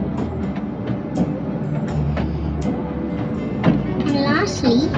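A passenger train on the way to Busselton, Western Australia, rumbles steadily along its rails, with low rolling noise and occasional clicks and knocks, while a voice talks over it throughout.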